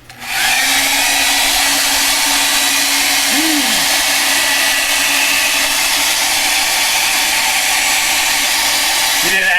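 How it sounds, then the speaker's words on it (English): A heat gun drying an art journal page blows a loud, steady whoosh close by, holding constant from start to finish with a faint whine, alone with no talk. "Heat gun."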